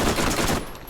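SMG gunfire in the video game Borderlands, a loud rapid burst of shots that cuts off partway and trails into a fainter tail.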